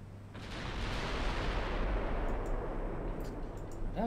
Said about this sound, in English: That's a big salvo.